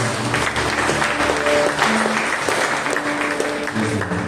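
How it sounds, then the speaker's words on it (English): A prayer-meeting congregation clapping together in a church hall, dense continuous applause with music tones underneath, no voices. "Let's give a clap to Jesus."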